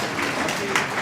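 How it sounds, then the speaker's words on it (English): Applause at a flow cytometry conference honouring the organising team, a brief burst of crowd clapping with some voices mixed in. "they deserve a round of applause"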